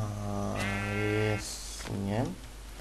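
Sheep in Minecraft bleat twice, close and clear, each a wavering harmonic cry separated by a short pause.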